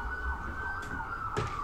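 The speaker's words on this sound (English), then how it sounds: "These are police sirens." A police siren sounds as a steady high wailing tone, moderately distant, with a couple of brief sharp noises cutting across it during the short stretch.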